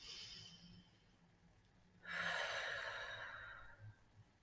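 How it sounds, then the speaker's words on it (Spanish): A deep breath during a guided relaxation exercise: quiet background at first, then one long, airy exhale rises sharply partway through and fades out after about a second and a half. "Otra respiración profunda para relajarnos."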